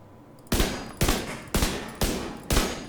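Five evenly spaced, sharp gunshot bursts ring out about half a second apart from an assault rifle in the shooter game The Division 2, each with a short decaying tail and no talking.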